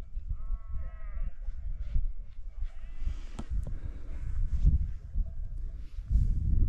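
A flock of sheep wearing bells in the Écrins National Park, with scattered bleats near and far over clinking bells and outdoor rumble, and a faint voice now and then.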